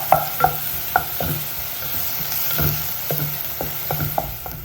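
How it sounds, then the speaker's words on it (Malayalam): Crushed ginger, garlic and green chilli sauté in coconut oil for a Kerala-style crab roast, a soft continuous sizzle under sharp, irregular scrapes and taps of a spoon stirring in the pan. "ഈ വെളിച്ചെണ്ണയിലൊന്ന് മൂപ്പിച്ചെടുക്കുക"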